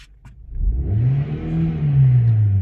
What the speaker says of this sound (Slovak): až teraz počujete motor.